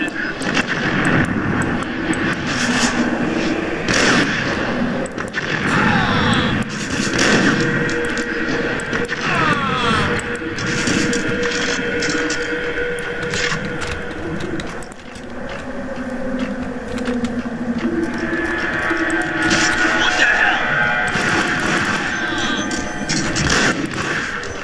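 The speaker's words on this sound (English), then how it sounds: "Bomba, üstüme bomba fırlatıyor" Explosions and gunfire go off in the Max Payne video game, dense and continuous over a droning game soundscape of engine-like rumble and clatter, loud and close throughout.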